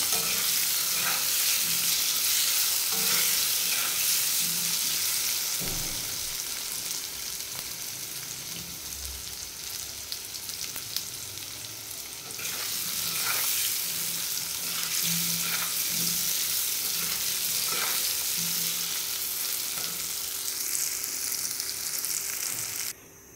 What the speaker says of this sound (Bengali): এখন এটিকে লাল করে ভেজে নেব।